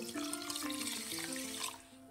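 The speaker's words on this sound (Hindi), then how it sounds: "250 ml हम इसमें पानी ऐड करेंगे" Water is poured steadily into a pan of sugar on an unlit stove while making syrup for gulab jamun, a continuous close, bright splashing stream lasting the whole stretch without talk.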